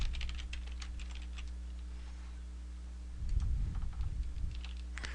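Bursts of clicky typing on a computer keyboard, quick irregular keystrokes close by with a pause midway, over a steady low electrical hum.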